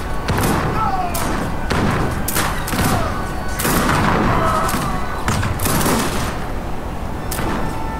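Artillery cannon fire in the strategy video game Age of Empires 3, a dense continuous barrage of booms and cracks layered over a loud battle din, steady and busy with no pauses.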